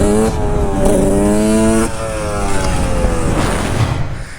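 Two-stroke 125cc road-legal motorcycle engine revving up close, a rising harmonic whine that climbs, drops off near the two-second mark, then builds again into a rough, buzzy rasp.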